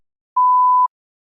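A single clean electronic beep, a steady pure tone lasting about half a second, sounds alone in silence as the cue to start speaking in a recorded practice test.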